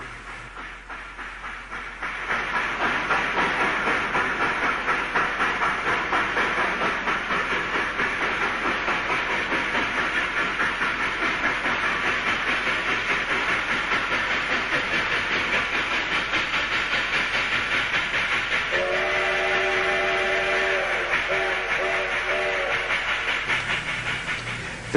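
A small U.S.-built steam locomotive train runs steadily with a continuous broad hiss and rumble of rolling cars, loud and close throughout, with a short whistle-like tone near the end.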